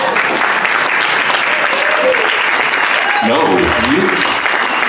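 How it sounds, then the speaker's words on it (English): Summer campers clapping for themselves, a loud, steady rush of applause from a large crowd that carries through the whole stretch while a person speaks briefly over it. "applaud yourselves"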